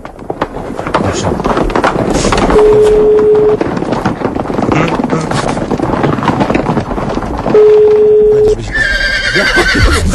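Horse neigh and whinny sound effects played during a Polish morning radio show, loud and repeated over busy studio chatter, with a higher squealing whinny near the end; hoof clip-clop sounds mix in and hosts talk throughout.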